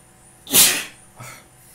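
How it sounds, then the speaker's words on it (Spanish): A single sharp human sneeze bursts out loudly at close range, followed by a softer exhale and breath in an otherwise quiet room. "Voy a estornudar."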